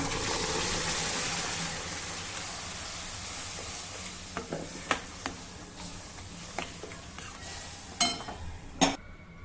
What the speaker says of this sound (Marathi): आता यामध्ये घोटलेलं साकवत घालूया